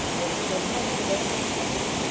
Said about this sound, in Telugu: కానీ ఇది కూడా వాటర్ ఫాల్ అయిపోయింది